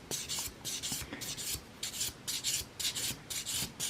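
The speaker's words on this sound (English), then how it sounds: "So I'm just going over with my buffer" A nail buffer rubbing back and forth over fingernails, a quiet, close, regular series of around a dozen short scratchy strokes with no voices.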